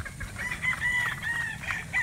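Chickens on a Philippine farm, pullets out on range, with a rooster crowing loudly in drawn-out calls over steady background clucking and low farmyard noise.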